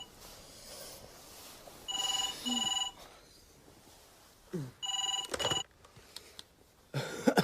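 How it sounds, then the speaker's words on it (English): A telephone rings in repeated double bursts of electronic trilling, three separate rings in all, fairly close and clear against a quiet room with no one talking. "Nick, it's the phone."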